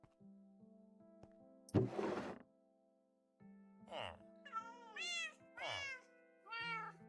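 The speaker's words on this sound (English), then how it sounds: "Who's a good little void kitten?" A black cat gives a series of four or five close, rising-and-falling meows over a steady low electrical hum, after an earlier burst of rustling.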